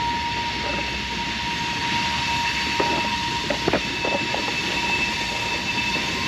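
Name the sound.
train passing by a riverfront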